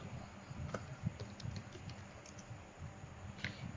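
Keys tapped on a computer keyboard while a web search is entered, a quiet, steady patter of clicks with a few sharper keystrokes standing out.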